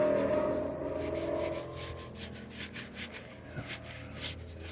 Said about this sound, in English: And you wipe off the excess.